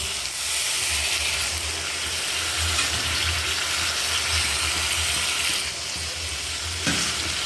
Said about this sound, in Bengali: ডাল আর মশলা কষা হয়েছে এবার আমি জল দেবো